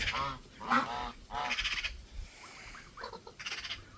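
Geese on a farm honking in a few loud, close bursts over about four seconds, with small goslings nearby and faint background noise.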